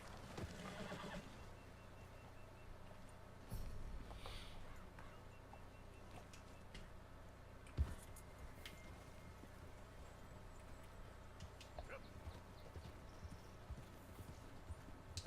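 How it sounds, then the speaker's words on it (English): A horse in the Red Dead Redemption video game clip-clops at a steady pace and neighs, with faint ambient background and a single sharp knock midway; no voices. "So they're stopping this damn horse once he's heading in one direction."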